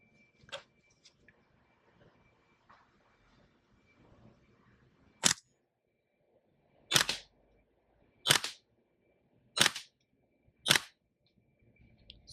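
Five sharp, evenly spaced snaps from an airsoft pistol fired through a chronograph, each shot crisp and close, with a faint click beforehand and quiet between shots.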